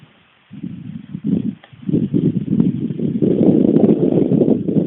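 Steady gusty wind buffeting the microphone at an outdoor paramotor site, a low rumbling roar that starts after a brief quiet moment and grows louder and more constant.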